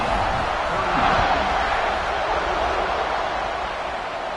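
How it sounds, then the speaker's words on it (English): Football stadium crowd buzzing with a steady, dense roar of many voices, loud and continuous throughout, with no single voice standing out. "this crowd is buzzing after that last score"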